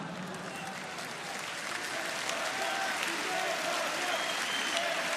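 Audience at a political meeting in Cannes applauding, a dense steady wash of clapping that swells slightly and holds throughout, heard from within the hall.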